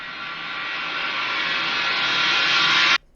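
A reversed crash cymbal, time-stretched and distorted, swells as a dense hissing wash that slowly grows louder for about three seconds, then cuts off abruptly into silence.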